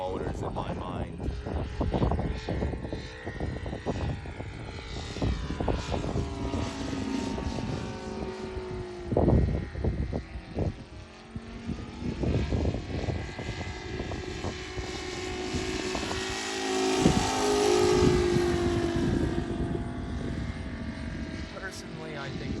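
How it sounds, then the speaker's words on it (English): An Aeroworks Yak 55 RC aerobatic plane with an ASP 400 radial engine makes a flyby, its throaty engine drone rising and falling as it passes, with someone talking over much of it. "Just hear that engine purr as it comes by."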